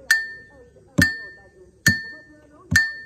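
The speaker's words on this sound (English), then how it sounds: "Okay, so I'm going to go with the bell." A bell rung in a drumming class for Bima music gives four bright, ringing strikes at an even, steady pace. Each strike is loud and close and fades quickly, with no talk over the strikes.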